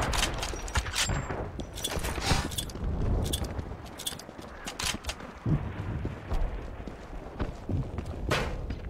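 Sustained gunfire in the video game Wolfenstein 2, a dense run of sharp shots and bursts repeating across the whole stretch, loud and close amid busy battle noise.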